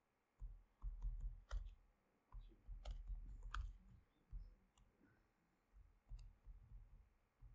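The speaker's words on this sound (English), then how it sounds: "my typing's not that great" Steady typing on a computer keyboard, a continuous run of close, quick clicks and key taps with brief pauses, alone without talk.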